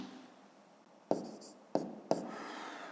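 A pen writes numbers on paper during a fifth-grade math exercise, making three quick scratchy strokes close by after a soft continuous rubbing, with no talk over it.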